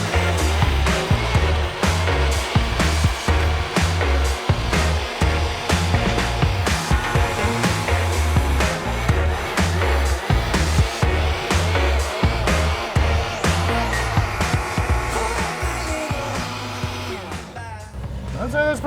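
A blender whirs steadily through Brazilian cheese bread batter for nearly twenty seconds, loud and close, with its pitch shifting slightly as it runs before winding down near the end.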